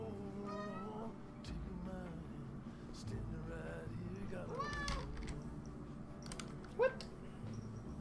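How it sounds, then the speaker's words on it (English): Hungry pet cats meow repeatedly in short rising calls at moderate distance, mixed under steady talk and background game sound, with a brief sharp click near the end. "Kitties have not been fed yet,"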